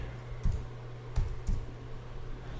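A few sparse keystrokes on a computer keyboard while entering a debtor code into accounting software, three soft clicks spread over a steady low hum, with no speech.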